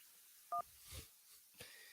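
A short telephone dial tone beep sounds once, followed by faint clicks and line noise as a call connects on a radio show.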